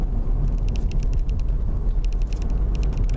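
A car pulls away in first gear with a steady low engine rumble from inside the cabin, joined by faint rhythmic ticking.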